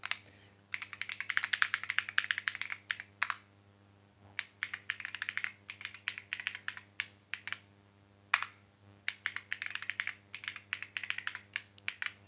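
A password is typed on a computer keyboard while setting up Pi-hole, heard as close bursts of rapid key clicks with short pauses between runs, no talking.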